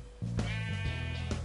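A Minecraft sheep bleats in a short, wavering call that starts abruptly and holds steady, clear and close in the game audio.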